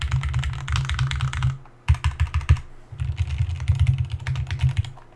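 Arrow keys on a J80 keyboard are tapped in quick bursts, close and crisp clacking with a brief pause and a few spaced single presses before the rapid typing resumes, no talk.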